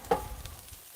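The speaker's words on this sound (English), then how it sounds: "I'm gonna go ahead and push the onions back to that eye and let them start browning a little bit more" Onions sizzle and crackle on a hot griddle, a brief, fairly faint frying hiss with one sharper pop at the start.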